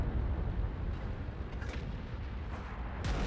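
Heavy, rumbling tank cannon fire in World of Tanks, with a dense low boom throughout and a couple of sharper reports standing out near the end, loud and continuous.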